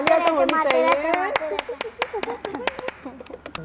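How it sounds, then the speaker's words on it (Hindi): Audience at a cafe show claps in a brisk burst of many hands, steady then thinning, with voices and talk mixed in underneath. "ये तालियां तो होनी चाहिए।"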